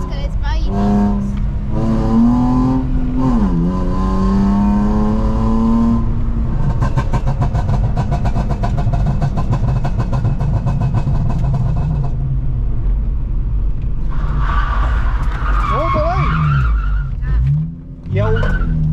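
A BMW E46 drifting in circles, its engine revving hard with rising and falling pitch and tyres screeching continuously, loud and close; people talk over it throughout.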